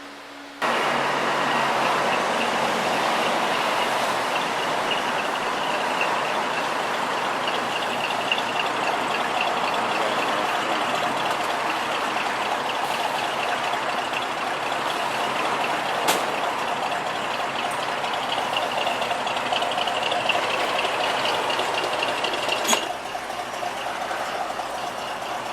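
A 1969 Ford Bronco on a road test after mechanical fixes, its engine and road noise forming a steady, loud drone that runs throughout with no talk.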